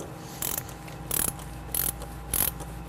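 A ratchet clicks in four short bursts while loosening the oil filter housing cap on a GM Ecotec engine, with brief pauses between strokes, close and distinct.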